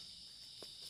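Crickets chirp in a steady, high-pitched drone through a dark night campsite, joined by a brief soft thud or rustle partway through.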